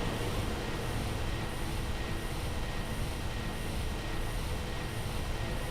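A warship flight sequence in the video game Xenosaga Episode 3, heard as a steady dense roar of engine rumble and rushing noise, loud and unbroken with no voices.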